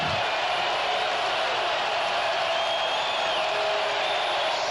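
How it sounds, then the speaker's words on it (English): Steady roar of a packed football stadium crowd at the Minnesota Vikings versus New Orleans Saints NFL conference championship game in New Orleans, a continuous wash of noise heard from the broadcast booth, no single voice standing out. "Listen to this crowd."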